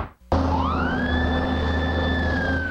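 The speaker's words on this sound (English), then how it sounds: "Sirens are blaring" Emergency vehicle sirens wail loudly and continuously during a staged car-wreck drill on a highway, a rising tone settling into a steady high wail over a low engine rumble, starting abruptly after a brief silence.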